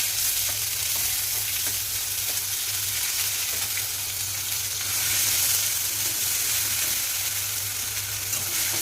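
A ginger, onion and garlic paste fries in hot oil with an even, close sizzle and faint stirring scrapes, holding steady throughout without any speech.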